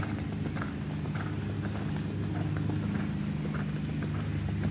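A horse cantering in a riding lesson, rapid rhythmic hoofbeats on arena footing, steady and moderately close with a continuous low rumble beneath.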